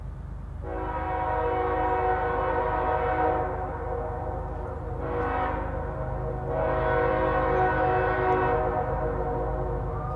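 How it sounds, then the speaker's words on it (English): A CSX Q276 freight hauling over 100 loaded auto racks climbs a grade, its horn sounding long near blasts, a short burst, then another long one, over a steady rumble of the train. "Q276 works up the grade with a 2-mile train of over 100 loaded auto racks."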